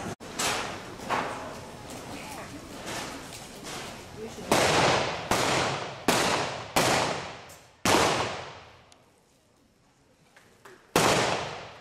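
Single-action .45 pistols fire at a cowboy action shooting stage, a string of loud, sharp shots spaced a second or so apart, each followed by a ringing decay, with a brief lull near the end before one last shot.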